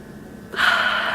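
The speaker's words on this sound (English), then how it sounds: "So the breathing exercise is you breathe through your nose," A single close, sharp inhale through the nose during a breathing exercise, loud and breathy, rising suddenly after a quiet moment and holding briefly.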